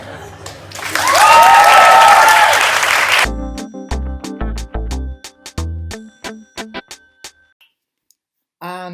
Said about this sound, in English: keep that applause going now for our final act